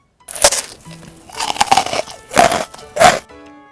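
Loud, close crunching bites of freeze-dried watermelon jelly, four or five brittle cracks spaced about half a second apart, with no talking.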